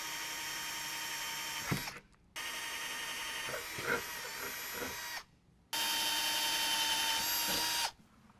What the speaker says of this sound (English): we'll go ahead and pull that off and do our drilling